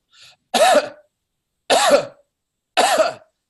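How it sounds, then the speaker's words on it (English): Three separate coughs, evenly spaced about a second apart, loud and close, after a faint soft sound at the start. "And then you're going to cough."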